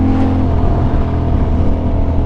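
Motorcycle engine held at high revs in third gear during a wheelie, a loud, close, sustained roar with slight wavering and no talk.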